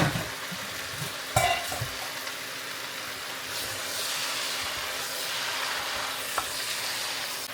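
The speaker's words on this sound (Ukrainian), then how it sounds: "Ми додаємо рис, знову перемішаємо." Rice is stirred into cabbage frying in a pan, giving a steady close sizzle with a couple of brief spatula knocks and scrapes, the hiss swelling slightly partway through.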